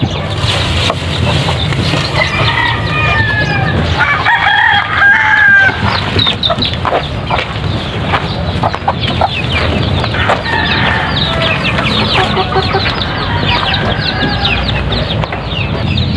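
Native chickens cluck steadily and a rooster crows at a farm during an egg harvest, a dense, close, continuous chorus of clucking and crowing.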